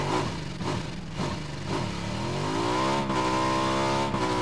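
In PUBG's Miramar map, a van's engine drones close behind and rises in pitch as it accelerates, a steady revving vehicle sound that grows louder toward the end.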